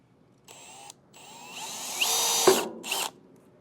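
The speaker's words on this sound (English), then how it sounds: "Now I'll take a 5/32 drill bit, and this hole lines up with the bracket underneath" A power drill fitted with a 5/32 drill bit bores a hole through the step and into a bracket on a 2021 Grand Design RV, whining in a short burst, pausing, then rising in pitch through a longer run and a final brief spurt.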